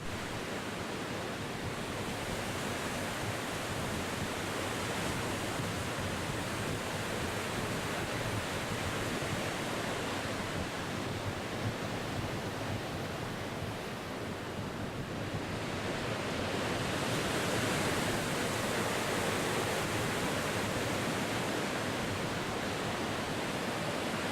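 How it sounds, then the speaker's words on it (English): Pacific Ocean surf rolls in below a San Diego pier, heard as a continuous, loud wash of breaking waves with gusty wind buffeting the microphone throughout. There is no speech. "Here are the waves looking out to sea from the pier."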